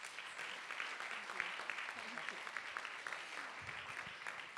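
An audience gives a round of applause at a Save the Children forum, steady dense clapping at a distance lasting a few seconds.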